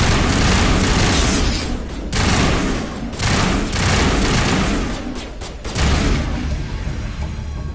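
Heavy sci-fi gunfire erupts in Mass Effect, dense overlapping weapon fire with booming hits, loud and continuous across the whole stretch with brief dips between volleys.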